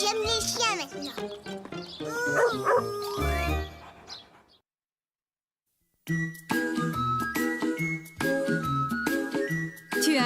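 Cartoon dog barking in a French-dubbed children's show set on a beach outing, with bright jingly tones and voices mixed in, a short silent gap, then lively sounds returning.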